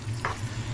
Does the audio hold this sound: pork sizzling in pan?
yes